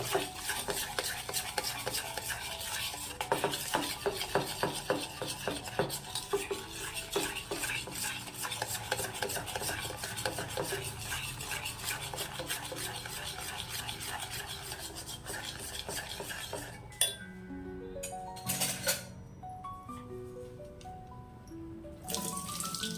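Milk mixed with cheese powder for making junnu, stirred steadily in a bowl with rapid rhythmic scraping and sloshing strokes, close and moderately quiet, with clinks and a few thin tones toward the end.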